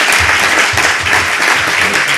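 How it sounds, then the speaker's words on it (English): An audience at a Richmond CCG annual general meeting applauds a group of young people, dense and continuous clapping that stays loud and close throughout. "Could we just give our lovely young people a round of applause?"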